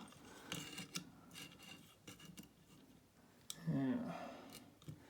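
File rasping across the blade of grass cutting shears in short uneven strokes, close and fairly faint, with a few sharper scrapes and a louder stroke near the end.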